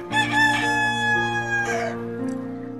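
A rooster gives one loud, close cock-a-doodle-doo crow with a long drawn-out final note, then falls silent.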